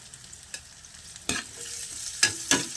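Meat hitting hot aromatics in a pan for pancit sabaw: a low, quiet background sizzle broken by a few sharp scraping stir strokes, two close together near the end.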